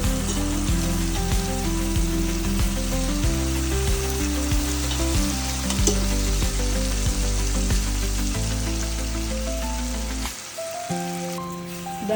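A tempering for dahi tikhari being stirred in a pan, a steady sizzle with repeated scraping strokes of the spoon and a low droning hum underneath that cuts out near the end.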